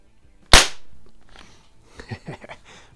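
One sharp, close report from a Daisy 88 air gun fired at a target, fading quickly, followed by faint brief voice-like sounds.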